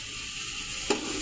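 Onions for beef yakhni pulao sizzle steadily in hot oil as they are stirred, a close, continuous frying hiss with a brief scrape of the spoon near the end and no voices.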